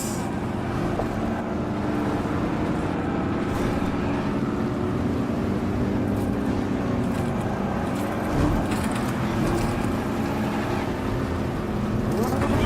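Vehicle engine driving in the PUBG Mobile game, a steady continuous motor drone with no breaks, moderately loud throughout.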